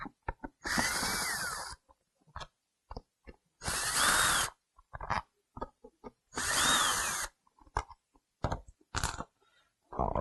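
A power driver spins out four screws from the electrical panel on the lower driver-side seat of a 2000-2002 Chevy, three separate whirring bursts of about a second each, loud and close, with small clicks and handling noises between them.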